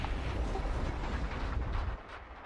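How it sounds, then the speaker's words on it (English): Explosion in a flight-sim game such as DCS or War Thunder after a ground landing, a dense low rumbling roar that holds for about two seconds and then drops to a quieter tail. "Bit of an explosion."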